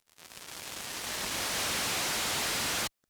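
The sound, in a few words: synthesizer white noise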